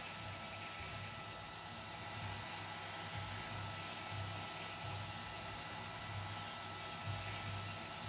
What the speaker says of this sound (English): What I'll do is I'll heat that ring up.